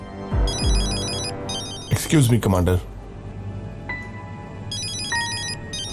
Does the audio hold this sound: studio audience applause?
no